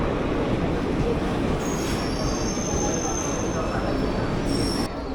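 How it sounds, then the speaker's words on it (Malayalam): The Bikaner–Dadar Ranakpur Express, hauled by a Vadodara-based WAP 5 electric locomotive, passes on an adjacent line: a loud continuous rumble with high metallic wheel squeals rising and fading. "വഡോദരയുടെ WAP 5 30076. അതിന് ബിക്കാനേർ ദാദർ രണക്പൂർ എക്സ്പ്രസ് ആണ്."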